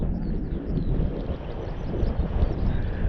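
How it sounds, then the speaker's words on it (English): Strong wind buffets a hilltop rock outcrop on Dartmoor, a heavy low rumbling roar with gusty surges on the microphone, close and loud with no speech. "It's pretty windy up here today"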